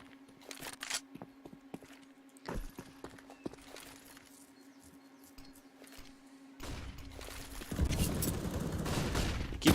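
Counter-Strike: Global Offensive match gunfire, a CZ pistol against an AWP sniper rifle, with sparse sharp shots and quiet footstep-like taps over a faint steady hum, then a louder dense burst of firing near the end.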